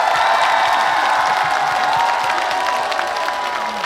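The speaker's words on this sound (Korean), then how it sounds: "박수 한번 쳐볼까요?" Audience at an outdoor winter beef festival concert in Hoengseong breaking into sustained, dense applause and cheering, a loud crowd roar that holds steady throughout and eases slightly near the end.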